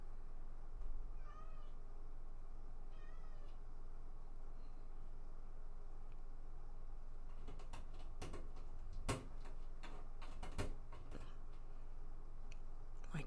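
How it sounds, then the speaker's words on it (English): A house cat meows repeatedly nearby, wanting to come into a room during a crochet session, its cries rising over a steady quiet background with a few light ticks and clicks toward the end. "My cat wants to come in and say hi, apparently."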